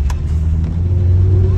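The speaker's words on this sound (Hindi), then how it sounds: "देखो आ रही वैगनार" A Maruti WagonR drives past near a rain-flooded underpass in Noida, a loud, close engine rumble that swells steadily over a brief stretch.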